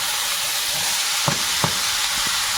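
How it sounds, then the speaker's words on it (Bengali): Black cumin seeds and lightly fried garlic sizzling in hot oil in a pan, a loud continuous hiss with two or three sharp stirring clinks near the end, no talk. "একটু কালো জিরে অল্প করে দিলাম তেলের মধ্যে এবার একটু রসুন দেব রসুনটা হালকা ভেজে নিয়েছি"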